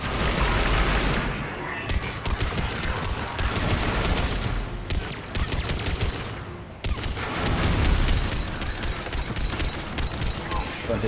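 Heavy rapid gunfire in the sci-fi shooter game Mass Effect Legendary Edition: loud, sustained bursts of shots with brief pauses, while voices talk over the combat.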